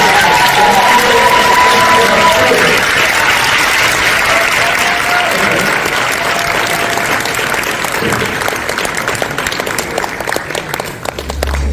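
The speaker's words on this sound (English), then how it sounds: "Everybody, can you please give me a huge round of applause?" A comic convention panel crowd breaks into loud, sustained applause mixed with cheering and whoops, a dense roar of clapping that holds strong before thinning slightly near the end.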